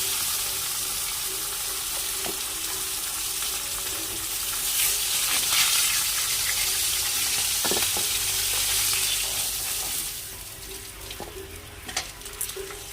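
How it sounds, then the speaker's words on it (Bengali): Cauliflower and potato frying together in a pan, a steady close sizzle that grows louder midway then thins out, with scattered scraping clicks of stirring and no talking. "এবার এরই মধ্যে একটু ফুলকপিটা ভেজে নেব আলু আর ফুলকপিটা"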